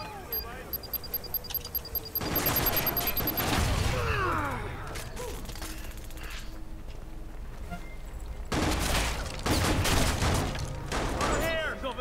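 Bursts of video game gunfire crackle in repeated volleys, loud and close at times and sparser elsewhere, alongside mechanical clicks and players talking over the action.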